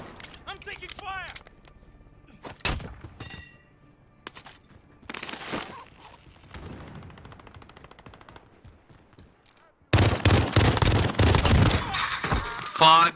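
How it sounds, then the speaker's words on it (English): Bursts of automatic gunfire and single shots crack through a military video game battle, with rapid volleys, pauses, and a loud sustained barrage near the end, alongside radio-style voices talking. "I'm taking fire!"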